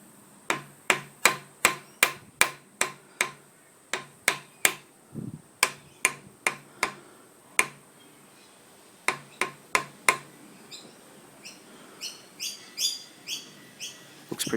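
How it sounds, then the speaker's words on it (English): Hammer tapping a fork cap flush on a Suzuki GS500 motorcycle during a steering head bearing change: a long run of sharp, close metallic taps in quick bursts, some evenly spaced and others in faster clusters, with no talking. "So with our hammer, we're going to do the same."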